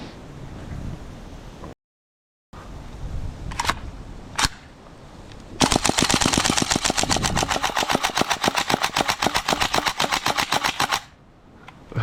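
A GHK AKM V3 airsoft rifle fires a few separate shots, then a long rapid burst of sharp, evenly spaced mechanical clacks lasting about five seconds before it stops, loud and close.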